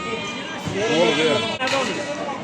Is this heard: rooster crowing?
no